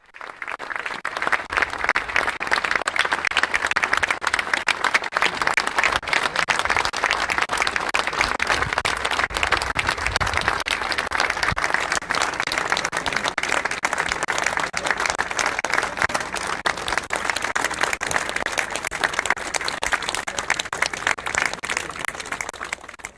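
A funeral crowd applauds as the coffin is carried out of an auditorium, long continuous clapping from many people, steady and sustained for over twenty seconds with no speech.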